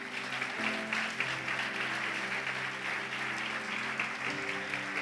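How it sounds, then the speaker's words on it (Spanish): A church congregation claps together in steady, moderately loud applause, with a low murmur and a sustained tone underneath throughout the short burst. "Dele un aplauso fuerte al Señor."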